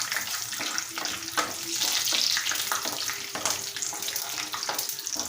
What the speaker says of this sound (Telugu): ఇప్పుడు ఆయిల్ వేడయ్యాక ఇప్పుడు ఫస్ట్గా జీడిపప్పు ఫ్రై చేసుకున్నామండి